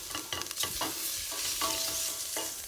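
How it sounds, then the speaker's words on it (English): Diced onion frying in a pan while being stirred, a soft steady sizzle broken by several light scraping strokes of the utensil, close and alone. "Give that a stir."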